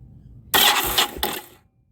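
Starter on a 2008 Yamaha XVS1100 motorcycle that will not start cranks in one loud, close burst lasting about a second, with a brief surge partway through before it cuts off.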